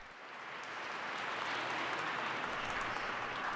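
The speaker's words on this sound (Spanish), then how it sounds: "Inmediatamente el aplauso" Crowd applause inside a church during a meeting with the poor and refugees, a broad wash of many hands clapping that swells in over the first second and holds steady, heard from a distance with no speech.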